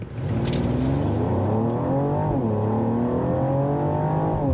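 A 2024 Mercedes-Benz GLE53 AMG SUV with its exhaust mode on accelerates hard from a standstill toward 60 mph, the engine note climbing steadily through smooth gear shifts, loud and continuous from inside the cabin.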